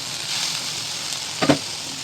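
Chopped tomatoes frying in a pan, a steady hiss and crackle of hot oil with a brief louder burst near the end as pieces are stirred.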